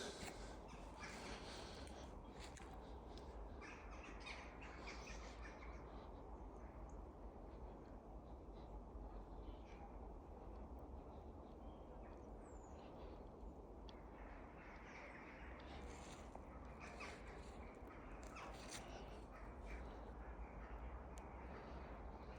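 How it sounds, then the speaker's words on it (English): Crows caw outdoors near a spot with swans and geese, faint and somewhat distant calls repeating over a steady broad background hiss and low rumble. "Crow's vocal."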